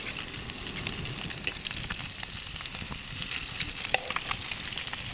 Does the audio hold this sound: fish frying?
yes